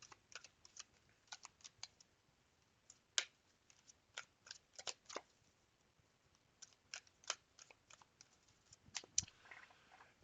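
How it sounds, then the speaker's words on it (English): Tarot cards being shuffled by hand, a quiet series of soft, quick riffling snaps and flicks in irregular bursts, close and alone with no voices. "so let's give the cards a quick shuffle."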